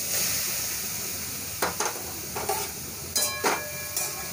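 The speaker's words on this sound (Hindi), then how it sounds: "अब मैं इसमें जो नारियल है वो मैं इसमें" Grated coconut tipped into a hot kadhai with a spoon of ghee for coconut and semolina laddoos, a soft steady sizzle with several sharp scraping stirs of the spoon.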